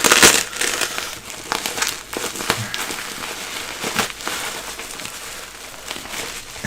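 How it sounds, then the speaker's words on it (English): Scissors snipping and crunching through modelling material at a hobby workbench, a run of close, crisp cuts and crinkles with uneven rhythm. "Yes, I'm using scissors."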